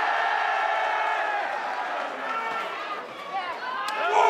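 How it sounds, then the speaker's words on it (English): A packed wrestling crowd yells and roars continuously, a dense wall of cheering voices that swells again near the end, with a commentator talking over it. "They have not stopped yelling."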